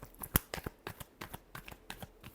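Tarot cards are shuffled in the hands, a quick run of crisp papery riffles and taps with one sharper snap near the start, close and fairly quiet.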